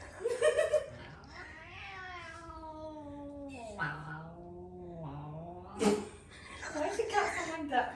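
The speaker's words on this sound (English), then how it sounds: "Why is the cat sound like that?" A cat meows in long drawn-out, wavering cries, several in a row close up, with people laughing and talking around it.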